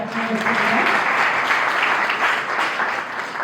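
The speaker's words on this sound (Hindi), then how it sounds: "जोरदार ताली" Loud applause fills a college welcome ceremony for teacher trainees, a thick, continuous wash of many hands clapping at close range for a few seconds.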